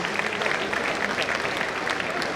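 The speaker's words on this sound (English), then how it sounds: "Give her a huge round of applause, my dear students." Students at a college farewell break into a dense, loud burst of applause, continuous clapping throughout.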